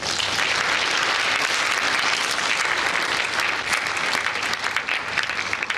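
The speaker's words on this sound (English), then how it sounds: "They deserve extra applause." Dense, continuous applause from a large crowd in a parliamentary chamber, steady and loud for several seconds with no break.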